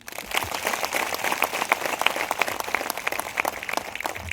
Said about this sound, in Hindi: एक बार ताली बजाएंगे यीशु जी